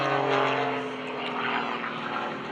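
An aerobatic propeller airplane at the 2011 Greenwood Lake Airshow drones steadily through shoulder rolls, its engine a loud, sustained tonal hum with slight pitch shifts.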